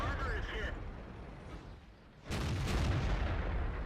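A heavy tank cannon fires in a World of Tanks battle on a T54E1, a loud booming blast with a rumbling tail that rises sharply after a quieter stretch of engine and battle noise.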